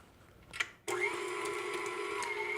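An electric mixer starts up and whirs steadily at close range, creaming cookie dough made with an organic omega-3 egg after a quiet moment with a few small clicks.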